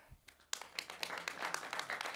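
An audience breaks into applause after a brief pause, a steady patter of many hands clapping at moderate volume.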